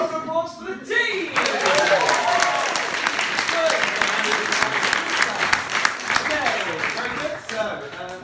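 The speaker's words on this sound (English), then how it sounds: "Round of applause for the team!" Audience applause rises sharply and fills the room for an improv comedy team at a live show, a dense steady wash of clapping that holds for several seconds before tapering off.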